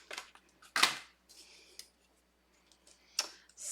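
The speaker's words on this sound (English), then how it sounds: "And then I get to open my new pair of scissors." A new pair of scissors is unpacked, giving a few crisp, close clicks and snips of the blades and packaging with short pauses between them in a quiet room.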